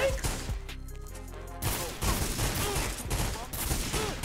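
Gunfire in the 50 Cent Bulletproof game: dense bursts of rapid shots and crashes in a continuous fusillade, with a brief quieter gap near the start before heavy firing resumes, and a voice faintly heard beneath.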